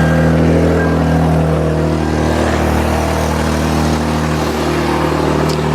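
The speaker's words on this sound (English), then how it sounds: "I'm going to start the car right now" A car engine runs steadily at idle with a low, even hum that holds throughout, close by and alone, with no clear cranking or start-up burst.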